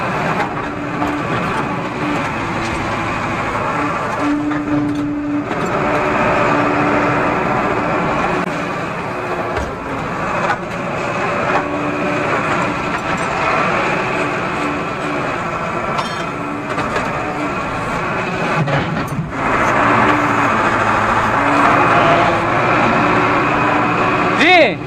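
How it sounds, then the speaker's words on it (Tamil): A Tata JD 315 E backhoe loader engine rumbles steadily while reversing at a pipeline work site, a continuous mechanical drone with occasional clanks and voices over it. "இனி வண்டியை பின்னாடி நவுத்தி விட்டு எடுத்துக்கலாம்."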